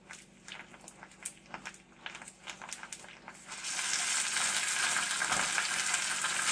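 Spinach cooks in a pan for an omelet, first with scattered soft taps and stirring, then a steady loud sizzle of frying that holds to the end, close up with no voices.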